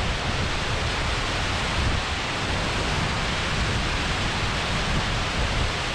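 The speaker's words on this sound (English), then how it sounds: "This looks incredible with the water rushing over here." Water pours over the wall of Lintrathen Reservoir in Scotland as a dense, steady roar. The rushing wash holds at an even level throughout and sounds fairly near, with no voices.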